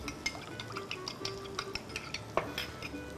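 Eggs being whisked in a bowl for an Armenian-style dish, a rapid series of light clinking taps of utensil against the bowl, steady and close, with no talking.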